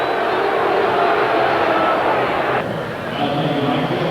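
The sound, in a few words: baseball stadium crowd howling at Giants game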